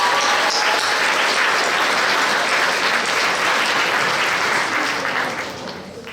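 An audience at a regional science fair final in Chutes-de-la-Chaudière, Québec, applauds two participants with dense, loud, sustained clapping that fills the room and tapers off in the last second.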